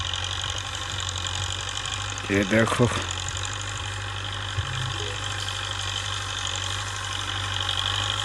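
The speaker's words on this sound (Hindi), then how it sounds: "ये है ट्रैक्टर, अभी हल आ रहा है" A tractor engine idles steadily in a farm field while a plough is being set up, a low continuous rumble running throughout with someone speaking briefly over it.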